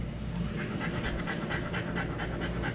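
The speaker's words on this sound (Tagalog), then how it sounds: "Hinihingal ka na." A French bulldog pants after a short walk, with quick, steady, rhythmic breaths that are close and fairly loud and carry on without a break.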